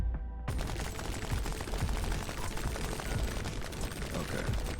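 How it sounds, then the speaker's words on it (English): Cluster grenades in a video game go off in a continuous string of small blasts, loud and crowded together, with rapid pops merging into a steady wall of noise throughout. "See our cluster grenades going off."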